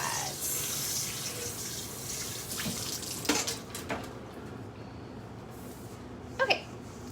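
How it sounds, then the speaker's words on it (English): Water from a kitchen sink faucet runs steadily while something is rinsed under it during pie making, with a couple of brief clunks near the end; no one speaks. "So we're just gonna rinse that off again real fast."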